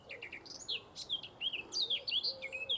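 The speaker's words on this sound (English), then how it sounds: "we've got that male blackcap singing up there" A male blackcap sings from up in the trees, a quick run of bright, warbling notes delivered fairly faint and somewhat distant over a soft outdoor hiss, with no talking.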